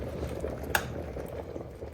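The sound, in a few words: Proctor Silex electric tea kettle water at a full boil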